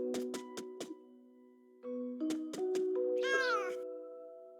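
A cat in a video game meows a few times amid bright chiming game tones and musical plinks, the soft mewing calls close and clear over the electronic jingle.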